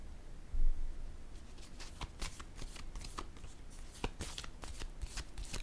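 Playing cards being shuffled in a series of quick riffling bursts, followed by a card drawn from the deck, close and fairly quiet with no talking.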